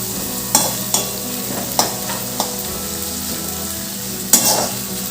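Carrot, green chili and capsicum sautéed in oil for ragi rava upma, a steady sizzle with several sharp scrapes and knocks of a spatula stirring the pan.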